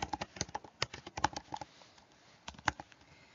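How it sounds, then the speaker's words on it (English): Keys clatter on a computer keyboard as notes are typed, quiet irregular bursts of taps with a short pause midway, close and faint with no voices. "if you do use the keyboard to take notes"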